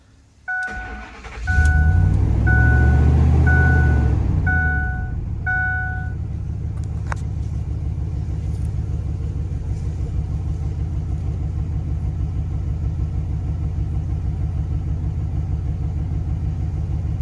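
A Ford F-150 that had caught fire restarts: the starter cranks briefly with beeping chimes, the engine catches with a loud low rev, then settles into a steady, smooth, close idle.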